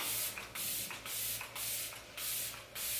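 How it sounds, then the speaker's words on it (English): Five short, breathy hisses from a pump bottle of antioxidant facial water mist, evenly spaced and close, alone in a quiet room. "I'm just gonna use like a little spray water."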